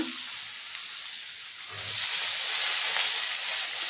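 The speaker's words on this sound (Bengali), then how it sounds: "এখন আমি টমেটোটা দিয়ে দেব" Tomato hits a hot frying pan in a Bengali egg curry made without ginger or garlic: a steady sizzle that swells louder and brighter partway through and stays intense to the end, close by, with no one speaking.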